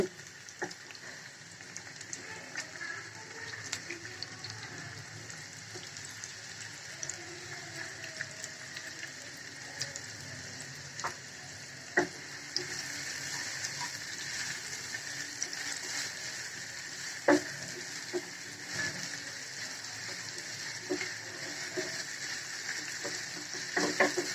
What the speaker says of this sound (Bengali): আমরা এখন এটাতে পেঁয়াজ কুচি দিয়ে দিচ্ছি।